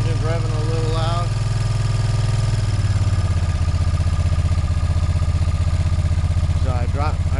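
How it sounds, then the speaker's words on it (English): A motorcycle engine with the choke partly out runs nearby at a rough, loud idle and revs lightly in a steady throbbing pulse, with brief speech-like vocal bursts near the start and end. "I mean, the engine's revving a little loud."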